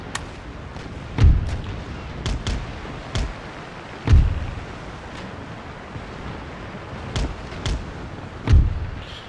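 Ship cannons fire during an Empire: Total War naval battle with the Dutch fleet, heavy booms arriving singly and in small clusters every couple of seconds over a constant wash of sea and wind.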